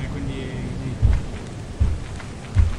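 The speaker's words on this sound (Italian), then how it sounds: "Ecco, un fulmine sta per colpire la pala che ha." Thunder cracks and lightning strikes in the video game Doom Company: three deep, booming thumps about a second apart over a steady hiss of rain, with voices faintly present.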